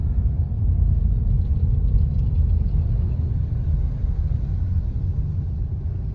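Highway traffic in Dasmariñas, Cavite rumbles steadily, a continuous low drone of passing cars and engines, fairly loud with no speech.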